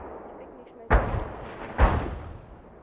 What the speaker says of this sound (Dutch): Oké, ik hoor schoten van andere mensen.